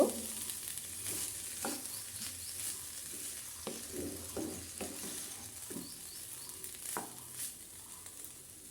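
Leftover rice fries in a pan while being stirred, a steady crackling sizzle broken by repeated scraping strokes and soft knocks of a spatula at irregular intervals, close and alone.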